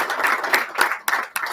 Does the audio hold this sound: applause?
yes